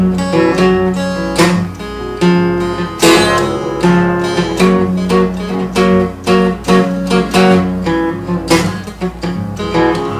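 A Martin HD-28 acoustic guitar is played in a lesson on intonation and dynamics. Strummed chords ring out in a steady rhythm, with loudness swelling and easing from stroke to stroke, close and alone.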